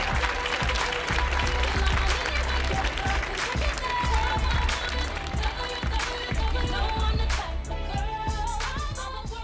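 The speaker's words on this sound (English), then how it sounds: "Please give a round of applause for Jasmine." An audience at a poetry reading on the Millennium Stage applauds, dense, steady clapping filling the room from many hands, holding at a constant level throughout with crowd voices mixed in.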